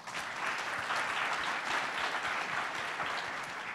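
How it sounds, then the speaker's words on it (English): An audience at a tech startup summit applauds the presenting companies, a dense, steady wash of clapping that stays loud and even for the whole stretch with no voices over it. "Let's give all of our companies another round of applause."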